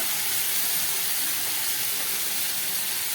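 Water from rinsing a sweets box hits a hot pan of spicy rita and tangra fish curry, giving a steady, loud steaming hiss that holds evenly throughout with no voices.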